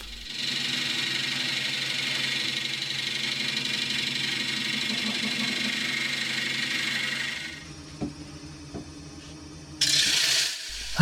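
A wood lathe spins steadily while parting off a segmented woodturning piece, giving a continuous whirring hum that drops away, leaving a few light knocks, before a brief burst of noise.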